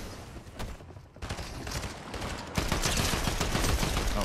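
Rapid gunfire crackles through a Fortnite match in irregular bursts that swell and thin out, turning into a thick, sustained volley near the end, with no one speaking over it.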